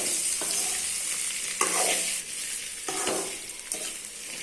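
Potatoes with crushed garlic tossed and stirred in a frying pan: a continuous sizzle broken by several scraping strokes of a spoon, close and fairly loud.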